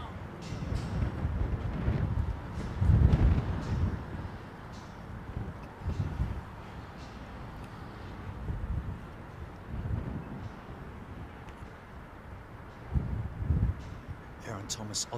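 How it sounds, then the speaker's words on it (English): Strong wind at London Heathrow Airport rumbles and buffets the microphone in loud, uneven gusts, while people talk over it. "Lots of, no clouds, but lots of wind."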